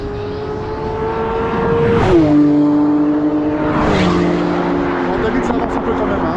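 A car speeds past on the Mettet race circuit, its engine note climbing and then dropping sharply as it goes by, followed by another rising pass a couple of seconds later, with voices chattering over the engine noise.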